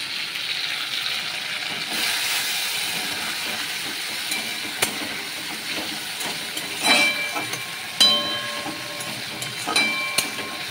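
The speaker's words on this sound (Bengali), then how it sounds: "আমার তেলটা গরম হয়ে গেছে, আমি তেলের উপরে পেঁয়াজ বাটাটা দিয়ে দিই" Onion paste hitting hot oil in a home kitchen pan, a loud continuous sizzling hiss throughout, punctuated by a few sharp clinks of a utensil against the pan, with no talking.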